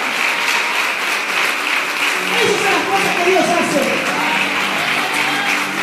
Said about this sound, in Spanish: ¡Un fuerte aplauso, Señor!